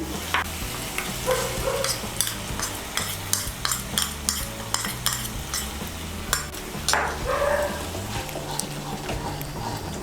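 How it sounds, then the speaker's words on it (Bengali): Poppy seed and cashew paste stirred into a frying masala, a spoon scraping the pan in quick repeated strokes over a soft continuous sizzle. "পোস্ত বাটাটাকে ভালো করে মিশিয়ে নেব"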